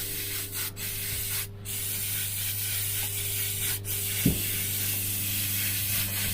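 Airbrush spraying paint in a mottled pass over a stone-textured skull on grained paper, a steady close hiss running throughout with brief breaks and pulses as the trigger shifts.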